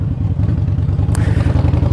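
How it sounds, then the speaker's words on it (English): A 2013 Harley-Davidson 1200 Sportster fitted with loud Screaming Eagle exhaust pipes runs close by, a rough, pulsing, throbbing engine note that stays loud and steady throughout with no voices. "the Screaming Eagle exhaust pipes on it. That's why this thing's so damn loud."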